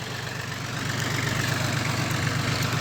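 A small tractor engine, fitted with a Japanese rotary tiller, idles close by. It gives a steady, rapid low chugging pulse that grows slightly louder partway through.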